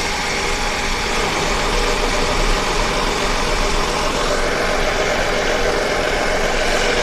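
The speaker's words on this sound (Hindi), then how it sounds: "तो इतनी बुरी तरह से इसमें जो साउंड आ रहा है ये इंजन के अंदर से है" A damaged car engine with low compression and internal faults runs steadily, a loud, rough, close mechanical drone with a knocking rattle and no breaks, no talking.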